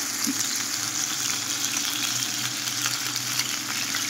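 Oriental sausage fries in a pan with a steady, close, hissing sizzle that stays even throughout, with no voices.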